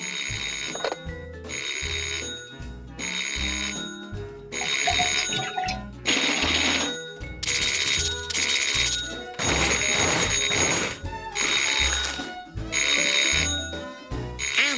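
Old-fashioned telephone bell in a Mickey Mouse cartoon rings in repeated bursts with short gaps, loud and insistent, alongside brief musical stings and bumps and no talking.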